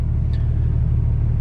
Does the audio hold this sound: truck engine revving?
yes